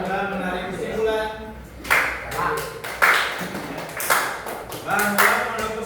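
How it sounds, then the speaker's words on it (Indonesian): A classroom group claps for group 1 in a measured rhythm, sharp bursts landing roughly once a second with voices murmuring underneath. "tepuk tangan buat kelompok 1 yang telah menarik kesimpulan"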